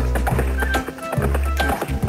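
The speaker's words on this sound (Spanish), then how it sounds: "Vamos a montar a caballo." A cartoon horse's hooves clip-clop in a quick, bright, regular rhythm during a children's riding scene, loud and close, with a few other faint cartoon sounds.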